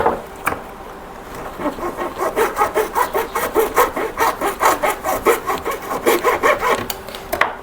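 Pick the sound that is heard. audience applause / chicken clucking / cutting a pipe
cutting a pipe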